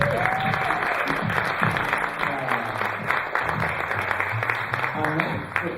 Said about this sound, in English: A warm, rousing applause for Nikki.